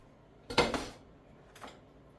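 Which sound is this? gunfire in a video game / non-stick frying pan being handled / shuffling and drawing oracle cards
non-stick frying pan being handled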